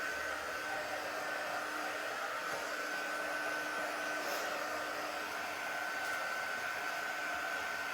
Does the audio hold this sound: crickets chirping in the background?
no